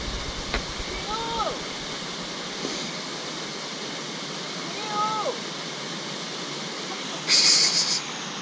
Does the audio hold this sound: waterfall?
yes